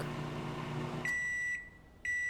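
A microwave oven hums, then cuts off into a pair of sharp, high electronic beeps with a short silent gap between them, close and clear.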